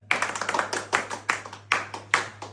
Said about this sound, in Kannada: ಹೊಡಿರಿ ಚಪ್ಪಾಳೆ ಸಂಧ್ಯಾ ಅವ್ರದ್ದು.